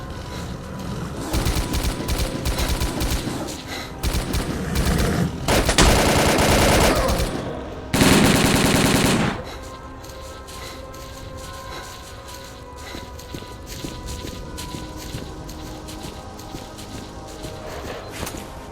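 Gunfire in the video game Stalker: Call of Pripyat, with rapid bursts of automatic fire across the first nine seconds, two dense loud volleys standing out, then quieter scattered shots and movement sounds.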